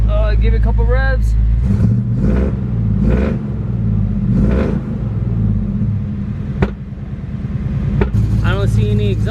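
A Foxbody Mustang engine with new spark plugs, running rough from a misfire, is revved several times, each short blip of throttle rising over a deep, loud idle up close.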